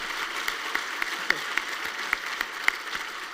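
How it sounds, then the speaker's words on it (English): An audience at a city's State of the City presentation claps in scattered, sparse applause, fairly faint and steady, with a few sharper individual claps standing out. "we can't clap after every sentence"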